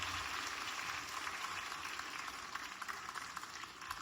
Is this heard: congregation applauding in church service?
yes